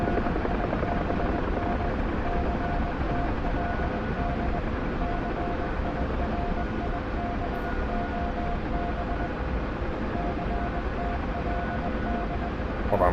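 A video game helicopter drones close by in a steady, unbroken rotor-and-engine roar with a faint whine, holding the same level throughout with no talking.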